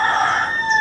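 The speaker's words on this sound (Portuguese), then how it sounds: "E o galo cantando." A rooster crows on a Brazilian property, a loud, close, sustained call that holds steady before tailing off.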